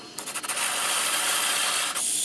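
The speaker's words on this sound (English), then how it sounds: "using a spade bit will go right through it" A spade bit drills through soft fire brick, giving a steady, loud grinding rasp that starts after a few brief scrapes and runs almost unbroken for about two seconds.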